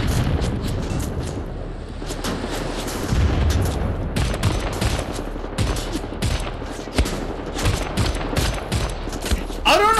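Rifle gunfire in Wolfenstein The New Order on the Gibraltar Bridge: loud, sharp shots in rapid irregular volleys, mixed with booming impacts and battle noise, with occasional speech underneath.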